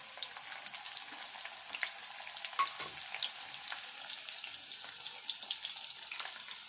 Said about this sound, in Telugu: కొంచెం చిటపట అన్నంగా ఉల్లిపాయ వేసుకోవాలి.